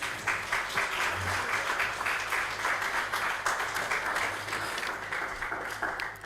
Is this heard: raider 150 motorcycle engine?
no